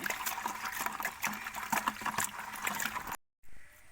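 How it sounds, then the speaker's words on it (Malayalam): A whole bottle of vinegar pours into salt water with a continuous splashing, gurgling stream that stops abruptly near the end. The pouring is close and moderately quiet, with no speech. "അത് മുഴുവനും ഞാൻ ഇതിലേക്ക് ഒഴിച്ചു കൊടുക്കുകയാണ്."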